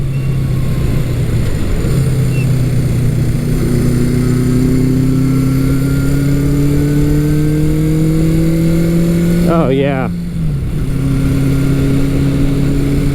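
A classic Honda motorcycle engine idling steadily up close, its low hum briefly dipping and rising with a short rev before settling back to a smooth idle.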